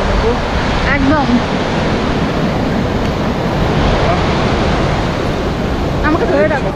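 Sea waves roll along Puri beach during a camel ride: a loud, unbroken roar of surf mixed with wind buffeting the microphone, with brief voices heard near the start and end.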